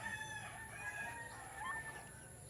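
Heritage chickens make a faint, distant clucking against steady background noise in a short outdoor stretch, with no talk heard.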